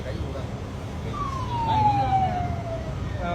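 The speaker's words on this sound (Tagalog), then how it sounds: "Oh, may dumaan pang pulis" A police car passes with its siren wailing. The single tone is moderately distant and slides downward in pitch as it goes by, over steady street and background noise.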